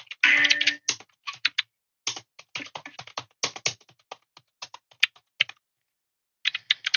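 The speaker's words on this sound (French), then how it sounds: "il veut que je tape un truc à l'ordinateur" Computer keyboard keys typed in irregular bursts, close and crisp, with short pauses between clusters of taps and a louder clatter at the start.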